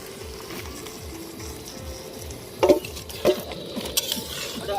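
Boiled dal goes into a pot of fish-head masala made with katla fish heads, with soft wet stirring and scraping at close range and a few sharp clinks of utensil against pot.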